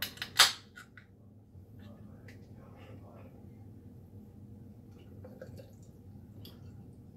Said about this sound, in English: So let's go ahead and crack this open, pour it into a glass.